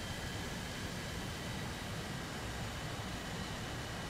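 A steady, loud airplane engine drone in flight in the video game War Thunder, a continuous broadband roar without breaks or voices.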